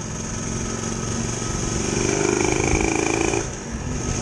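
A Honda LS 125 two-stroke motorcycle engine drones steadily up close, its buzzing tone rising slightly before dropping off abruptly near the end.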